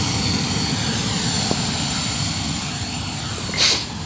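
A Lion Parcel airplane landing at Mopa airport: a steady broad engine roar fills the whole stretch, loud and close, ending in a short brighter whine, with no talk over it.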